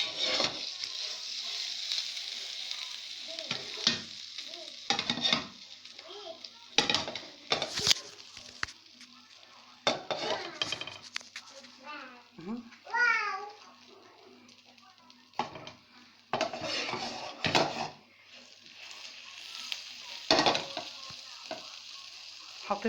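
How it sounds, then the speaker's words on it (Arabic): Butter and ghee sizzle in a pan heating on a gas stove, a steady close frying hiss broken by clinks and stirring sounds from the cook, with brief bird-like chirps in the background. "انا حطيت الطاسه اهي بتسخن على البوتاجاز. هحط حته سمنه حلوه كده، حته زبده"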